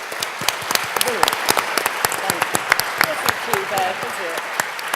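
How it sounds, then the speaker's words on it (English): Live audience applauding the panelists of a quiz game show, many hands clapping in a loud, continuous burst with sharp individual claps standing out and some voices mixed in. "I'd like you to give all our panelists a fantastic round of applause"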